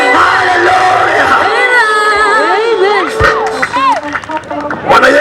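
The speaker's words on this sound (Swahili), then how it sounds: "Unayenisikia mpigie Yesu kelele, usanga na vigelegele" A crowd at a church mission gathering shouts and ululates together. High warbling trills and yells rise over loud, close, dense cheering, with some clapping mixed in.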